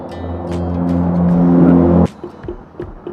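A Honda VR150 motorcycle engine runs with a rising rumble, then cuts out abruptly, leaving a few faint clicks and knocks.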